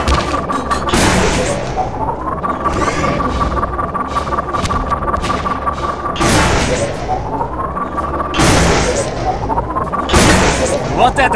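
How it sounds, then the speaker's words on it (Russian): Gauss gun in Half-Life 2 Deathmatch, a rising electric charging whine built up and released in loud booming shots, repeated several times amid other gunfire, with voices talking over it. "Вот это выстрел!"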